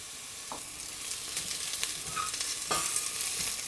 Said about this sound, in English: So now I'm going to add in my mushroom.